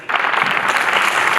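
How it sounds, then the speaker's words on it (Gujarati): Audience applause at a Gujarat drug awareness event, sustained clapping that starts abruptly and holds steady, loud and dense, from a large crowd. "આ જે પ્રેમભરી તાળીઓ છે"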